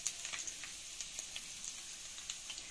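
Chicken gizzards frying in very hot ghee, giving a faint, steady hiss with scattered small crackles and pops throughout.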